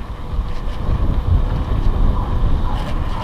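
Steady wind buffets the microphone throughout a bike ride on the road to Caliraya near Cavinti, Laguna, a continuous low rushing roar with no voices.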